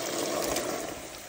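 Spring water runs out of a crack between rocks on a hillside, a steady close trickle and splash that carries on without a break and sounds alone.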